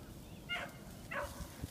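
A young female dog, eight months old and excited on her first trail run, gives two short yipping barks at moderate distance, each a brief bright burst over low background rumble.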